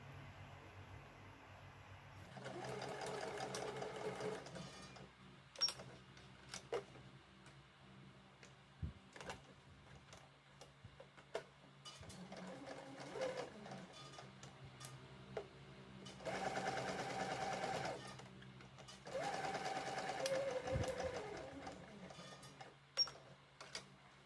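Sewing machine stitching a cloth face mask along the seam where a nose wire is inserted, running in several bursts of steady whirring with pauses between them, fairly quiet and close.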